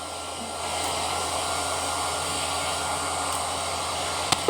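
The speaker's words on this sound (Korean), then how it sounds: "드라이기 소리 때문에 시끄러울 수 있으니까 그 양해 바랍니다." A hair dryer blows continuously with a steady, loud whooshing hum, unchanging throughout, with a small click at the end.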